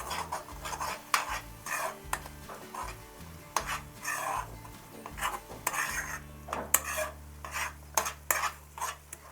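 Ginger garlic paste with a pinch of turmeric being stirred in a pan for egg pulusu, with irregular metal spoon scrapes and knocks against the pan over a soft sizzle, close and fairly quiet, no voices.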